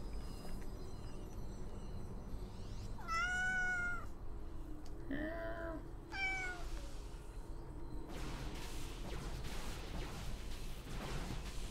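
A cat meows several times nearby in drawn-out, rising cries over a steady background hum, with no talking.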